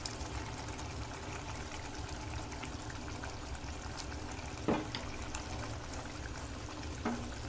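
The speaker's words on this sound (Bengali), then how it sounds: "এখন আমরা চিংড়িটা দিয়ে দিচ্ছি।" Prawns for a Bangladeshi prawn malaikari go into a pan of hot liquid with a faint, continuous sizzle and bubbling, marked by a couple of brief splashes or knocks as they are added.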